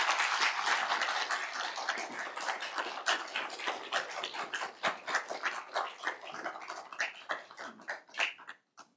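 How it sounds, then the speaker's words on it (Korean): An audience at a university president's inauguration ceremony applauds in a full, loud wash of clapping that gradually thins into scattered, separate claps and fades out. "내 외빈 여러분께서는 뜨거운 격려의 박수로 맞아주시기 바랍니다"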